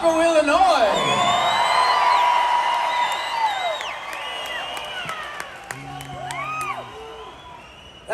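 A concert crowd at a show cheers and applauds, a broad roar of clapping and whoops that swells loud at first and slowly fades. Shrill whistles and squealing voices rise above it, with scattered shouts near the end.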